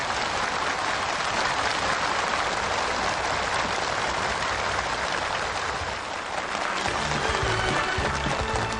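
A large crowd of participants at a factory opening ceremony breaks into loud, sustained applause and cheering that fills the space steadily from start to finish, dense and unbroken like heavy rain.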